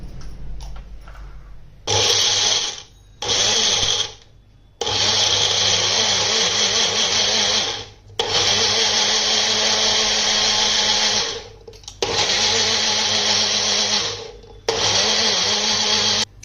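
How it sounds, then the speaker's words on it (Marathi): Kitchen blender grinding green grapes with a pinch of salt into juice, loud whirring bursts that start and stop several times across the clip, with short quiet gaps in between. "आता हे ब्लेंड करून घेतो."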